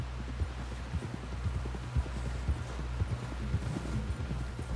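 A horse trots in Red Dead Redemption 2, with steady clip-clop hoofbeats and an even rhythm over a low rumbling background, close and continuous.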